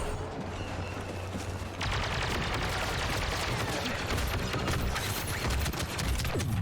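Dense video-game gunfire from a sci-fi battle around an armored walker, a steady rattle of shots and impacts that grows louder and fuller partway through, with low rumbling beneath.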